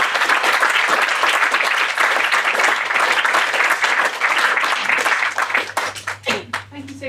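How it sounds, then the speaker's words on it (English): Audience applause at a poetry translation summit, a dense wash of many hands clapping that stays loud and steady, then thins into scattered individual claps toward the end. "let's give everyone a round of applause"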